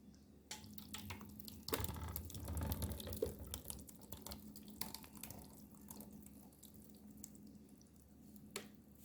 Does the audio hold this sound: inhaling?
no